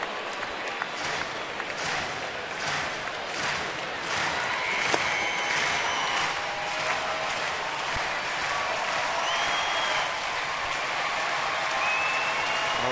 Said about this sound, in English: All of a sudden, you're starting to hear the crowd.